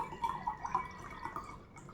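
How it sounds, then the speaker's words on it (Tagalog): Water poured into calamansi juice concentrate, either cold or hot water, giving a light trickling, dripping splash that comes in several brief bursts at moderate volume with no voices. "Tapos, lagyan lang po siya ng tubig."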